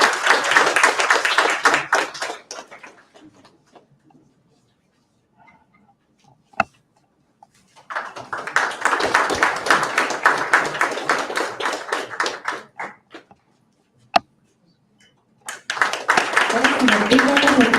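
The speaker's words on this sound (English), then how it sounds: "Big round of applause to the newly installed presidents." Audience clapping at an installation ceremony for newly installed club presidents, bursts of applause at the start, middle and end, separated by quieter gaps with a few sharp taps.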